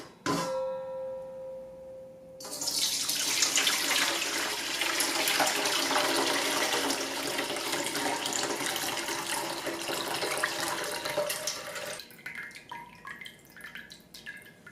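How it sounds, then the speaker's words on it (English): Water running from a tap into a rice cooker pot to rinse rice, a steady loud splashing and pouring that continues for about ten seconds before easing off into lighter trickles and drips. "I always like to rinse the rice a few times with water. And then you drain off the water."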